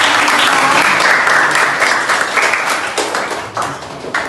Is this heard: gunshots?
no